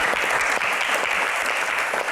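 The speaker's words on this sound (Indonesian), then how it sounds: "tepuk tangan untuk Bang Rano" Steady, dense applause fills the room from a crowd at an Indonesian Q&A event with a candidate for deputy governor, continuous and fairly loud throughout.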